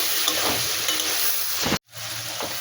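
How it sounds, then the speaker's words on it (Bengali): Tomato hits a fish curry masala sizzling loudly in a pan, a dense close frying hiss stirred with a spoon, broken by a brief silence before the sizzle resumes. "একটু টমেটো দিয়ে দিলাম, একটু ভালো করে নাড়াচাড়া করে নেব।"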